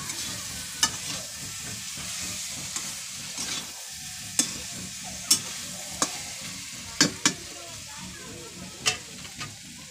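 A frying dish stirred in a pan over a village cook fire gives a continuous sizzle, broken by sharp scraping clicks of the spoon against the pan, with faint speech in the background.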